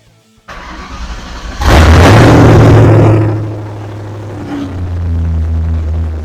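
A 2004 Ford Mustang New Edge cranks and fires up, its engine catching with a loud burst and revving before it settles into a steady, rumbling idle that rises slightly again near the end.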